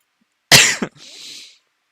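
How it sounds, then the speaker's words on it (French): A single sharp cough, close and loud, followed by a short breathy exhale in an otherwise quiet setting. "Excusez-moi si je tousse."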